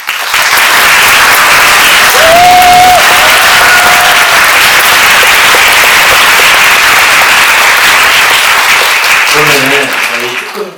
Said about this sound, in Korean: 이 무용수 분들에게 박수 한번